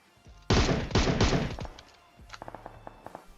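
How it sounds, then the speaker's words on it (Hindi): Gunfire from PUBG Mobile, a mobile battle-royale video game: a loud, rapid burst of shots, then a few lighter, sharp cracks and clicks spaced further apart. "मैंने बस 2 गोली चलाई और एक सर पे लग जाती है"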